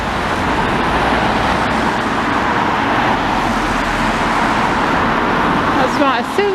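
Steady roadway traffic along a seaside promenade in fog, cars and a taxi rumbling past close by in a continuous wash, with a voice near the end.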